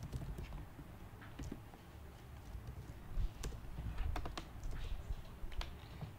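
Quiet, close keyboard typing while Lua code is written on a computer: bursts of light, quick key clicks in an uneven rhythm, with no talking.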